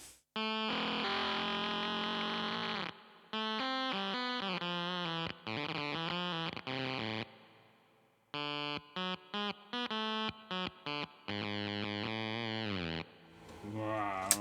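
A heavily distorted, buzzy guitar through a ZVEX Fuzz Factory with bit-crushed effect and Electro-Harmonix Holy Grail reverb plays chopped melodic phrases with gaps between them and a brief reverb tail after some notes.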